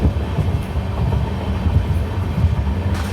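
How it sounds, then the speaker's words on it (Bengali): The Saraighat Express, train 12346 from Guwahati to Howrah, rumbles past near Rangapani station with a loud, steady roar and rhythmic clattering of wheels on rails, close and continuous throughout. "চলে আসছে ট্রেন নাম্বার 12346 গুয়াহাটি থেকে হাওড়া সরাইঘাট এক্সপ্রেস"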